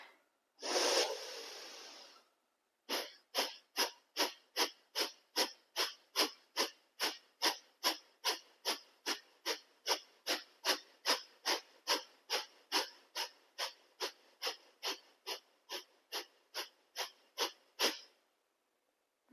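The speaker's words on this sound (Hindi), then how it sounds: "लंबी गहरी सांस भरें" Deep breathing during a yoga belly exercise: one long inhale, then a fast even series of around thirty sharp forceful exhales, close and clear in a quiet room.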